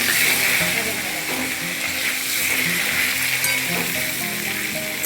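Potato and pumpkin pieces for Bengali kumror chokka sizzle steadily in hot oil with bay leaf and asafoetida, a continuous close frying hiss with no talk.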